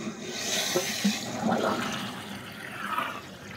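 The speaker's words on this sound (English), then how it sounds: "water coming into the bucket" Water rushes steadily into a plastic bucket as a Rheem tankless water heater is flushed and descaled through its service valves, a continuous close splashing flow with slight swells.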